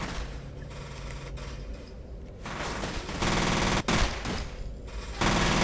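Rapid gunfire rattles in the shooter video game F.E.A.R., with loud bursts of automatic fire and clattering shots that grow more intense toward the end. No one speaks.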